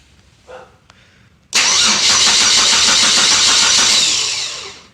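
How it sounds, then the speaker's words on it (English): A brief stir of noise, then a car engine cranks and catches, roaring loudly and steadily before easing off slightly at the end. "I'm gonna go ahead and crank the engine"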